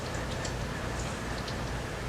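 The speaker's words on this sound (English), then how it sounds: "You might hear the rain. It's raining." Rain falling outside during an indoor makeup session, a steady, dense patter of drops on surfaces, even and continuous throughout with no voices over it.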